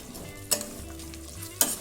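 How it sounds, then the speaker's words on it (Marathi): Cashew pieces, peas and curry leaves for a red lentil pulao sizzle in a frying pan while a spoon stirs them, giving two crisp scraping strokes over a low steady fry. "हे सर्व छान मिक्स करून घ्यायचे"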